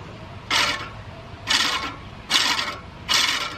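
Blades of a 1930s Keen Kutter reel mower are being sharpened, giving four evenly spaced, loud metallic whirring scrapes, each about half a second long, with short pauses between them.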